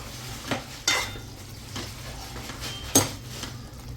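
Okra masala stirred through gravy in a pan, a spoon scraping and tapping the metal in a few distinct strokes over a low, continuous sizzle.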